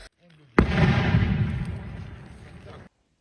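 A single heavy shelling explosion booms out after a brief quiet moment, its roar rolling on for a couple of seconds before cutting off.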